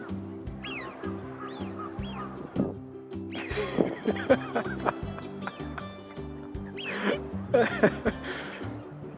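Birds call repeatedly near a windmill at night, with honking, goose-like cries and squawks coming in bursts over a soft music bed.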